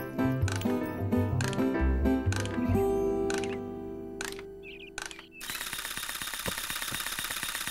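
In a cartoon listening game, a wind-up mechanical toy mouse whirs, clicks and ratchets in quick, sharp mechanical bursts. A brief musical tone runs through it, and a dense, loud buzzing texture follows.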